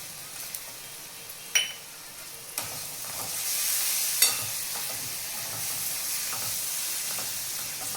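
Ground green chili, garlic, coriander, asafoetida and turmeric sizzle as they hit hot oil, with a steady frying hiss broken by a few sharp clinks of a spoon stirring the pan.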